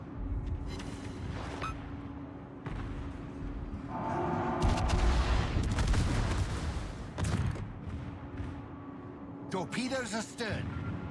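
Naval artillery fire in the warship battle game World of Warships, heavy booming salvos that rumble for several seconds while voices talk over the battle.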